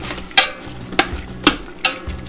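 Duck meat browning in hot oil in a pan with garlic, a steady close sizzle broken by four sharp stirring scrapes at regular intervals.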